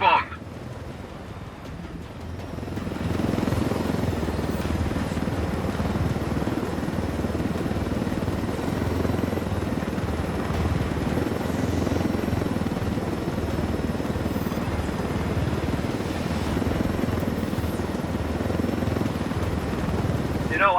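Helicopter flying in the Ghost Recon Wildlands video game, a steady loud rotor and engine drone that sustains throughout after a quieter start, with voices talking over it.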